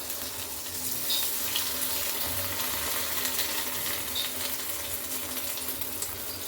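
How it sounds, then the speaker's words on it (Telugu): Rice flour bondas deep fry in a pan of oil, a steady close hiss and bubbling sizzle that holds at an even level throughout, with no voices over it. "ఆల్రెడీ కొంచెం వేగితే చాలు పైకి వచ్చేస్తుంది బోండా"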